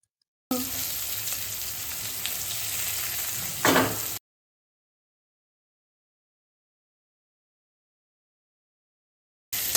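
Curry leaves and green chillies, with asafoetida, hiss and sizzle in a hot pan for a few seconds, ending in a brief stir before the sound cuts to silence.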